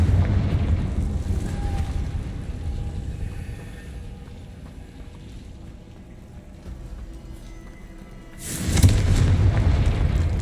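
Confringo fire spell explosions in the Hogwarts Legacy video game: a dense, rumbling low boom that slowly fades, then a second loud burst near the end, all without talking.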